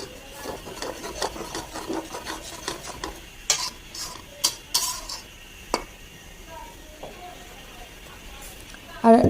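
A spoon stirs and scrapes spice paste (masala) around a pan, giving irregular rasping scrapes and sharp metallic clinks against the pan, with a soft sizzle between strokes and a louder clatter at the end.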